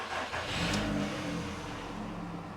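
A 2009 VW Beetle 1.4 petrol engine starts with a brief crank and catch, then settles into a steady, close idle that continues without any talk.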